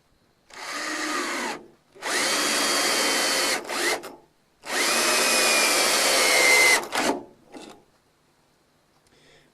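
Power drill boring into a custom 88-key keyboard part, running in three sustained bursts with short pauses between, loud and close with a whining, grinding tone and no talking.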